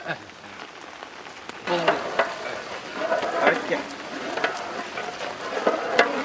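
Thick orange marmalade bubbles and sizzles in a pan while a spoon scrapes and stirs it in uneven strokes, up close.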